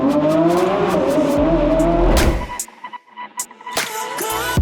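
A Porsche engine roars loud and close, climbing in revs with a short tire chirp, then cuts to near quiet before a few sharp bangs and another burst of revving.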